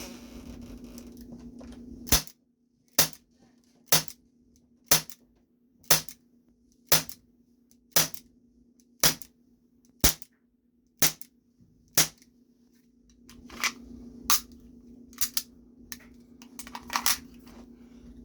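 An Umarex Beretta 84 FS CO2 BB pistol fires about fifteen sharp, loud blowback shots at a steady pace of roughly one per second, each a crisp crack over a low background hum with no voices.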